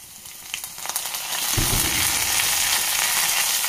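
Onions fry in oil, then dried red chillies are dropped in. A light sizzle jumps into a louder, sustained hiss and crackle that holds steady to the end.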